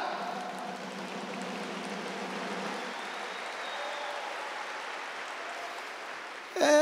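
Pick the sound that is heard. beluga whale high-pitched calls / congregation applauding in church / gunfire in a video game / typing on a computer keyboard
congregation applauding in church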